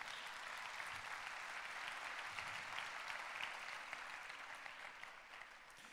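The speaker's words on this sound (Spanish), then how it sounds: "eso merece un aplauso al Señor" A church congregation breaks into sustained applause, a steady wash of many hands clapping that sounds faint and distant, then tapers slightly toward the end.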